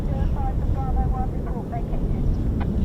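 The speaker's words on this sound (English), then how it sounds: "F-35Bs now airborne." F-35B stealth jets taking off from an RAF airbase produce a steady, broad, distant roar that rumbles through the clip, with people talking over it.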